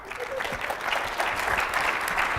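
A conference audience at a tech talk breaks into applause that swells and holds as a steady wash of clapping, fairly close.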